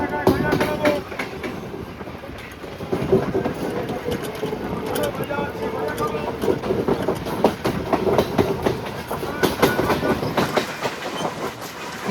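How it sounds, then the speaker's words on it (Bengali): A Sealdah–Shantipur local train runs on the rails with a continuous nearby rumble and rhythmic clickety-clack of wheels over joints, loud and steady throughout, with voices of people talking mixed in. "শিয়ালদা থেকে শান্তিপুরের যে ট্রেনটি আসছে সেটি ধরবো"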